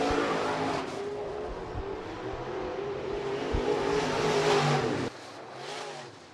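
USRA B-Modified race cars roar around the Rapid Speedway dirt track at a night heat race, a continuous loud engine drone that swells and then drops as the pack passes.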